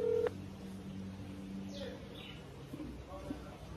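A phone number is dialed with a short, sharp keypad tone at the start, followed by faint chirpy beeps against a low steady hum, with no speech.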